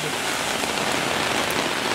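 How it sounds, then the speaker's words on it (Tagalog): Heavy rain pours steadily, a dense, loud, continuous hiss of drops striking surfaces close by, with no voices or breaks. "Ang lakas ng ulan."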